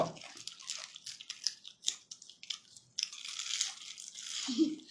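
Crispy fried fish is bitten and chewed close up, with a run of crunchy crackles and wet mouth sounds in irregular bursts. The sounds are fairly quiet and come with no talk.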